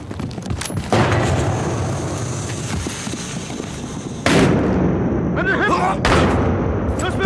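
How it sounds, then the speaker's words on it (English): Battlefield Hardline police-mode combat with a gas grenade thrown, heard as a loud continuous roar of blasts and gunfire, sharp booms cutting in, and shouted voices over the chaos. "Throw a gas grenade!"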